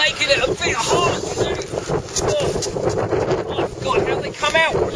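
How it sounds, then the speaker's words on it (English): Gusty wind buffets the microphone on a boat cruising the Norfolk Broads, a continuous rough roar with people talking over it nearby. "it's a bit windy in here"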